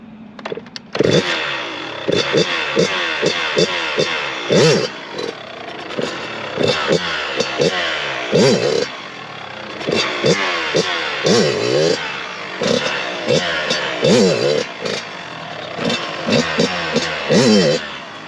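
Kawasaki KX112 dirt bike engine revving loud and close in repeated throttle bursts during a wheelie, rising and falling rhythmically throughout with steady rough idle between pulls.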